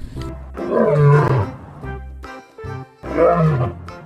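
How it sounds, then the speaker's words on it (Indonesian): A lion roars in several loud, close bursts, deep and throaty with gaps between them, heard without other sounds. "Wow, ini ada singa teman-teman."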